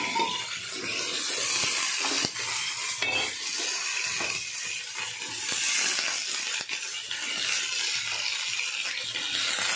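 Peas being stirred and roasted in a pan, a steady broadband sizzle with scraping and clinks of a spoon against the metal throughout, close and continuous with no talking.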